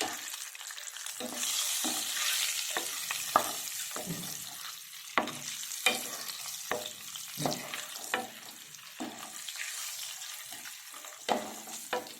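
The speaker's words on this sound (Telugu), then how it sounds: "ఎగ్స్ ఫ్రై అయిపోయినాయి కదా తీసేసుకుందామండి" Boiled eggs scored with a knife fry in a pan, a soft sizzle broken by frequent sharp taps and scrapes as they are turned and stirred.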